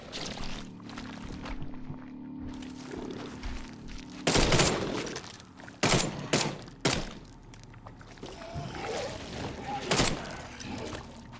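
Bursts of gunfire from The Sinking City video game crack out in several sharp, loud volleys between quieter stretches of watery, ambient game sound.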